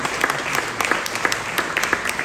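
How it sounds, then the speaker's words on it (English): Audience applause during a speech by the Philippine Department of Tourism Secretary, a continuous roomful of clapping with a few sharper claps standing out, moderately loud and without talk. "please give them the loudest round of applause"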